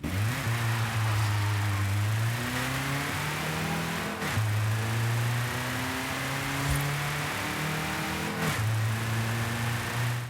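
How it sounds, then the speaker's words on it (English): A Volkswagen Santana engine in Forza Horizon 5 hums and revs steadily, pitch rising in repeated sweeps as it accelerates and shifts, with no talking over it. "Now let's go ahead and take a listen to the engine Volkswagen put in this thing."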